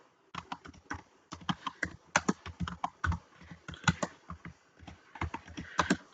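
Quick, irregular key clicks from typing on a computer keyboard, close and fairly quiet, coming in bursts with short pauses between them.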